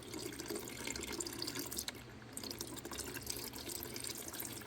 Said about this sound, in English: Okay, pretty much just dripping now.